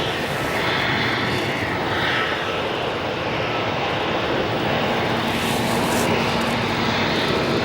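An Atlas Air 747 jet at O'Hare airport gives a loud, continuous engine roar that holds steady and swells slightly toward the end, with broad airy rushing over a low rumble.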